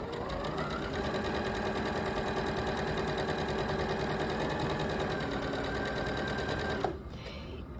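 A sewing machine stitches a rolled hem in a steady, loud mechanical whir with rapid even needle ticking running continuously before it stops abruptly near the end.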